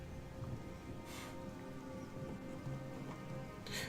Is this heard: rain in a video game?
yes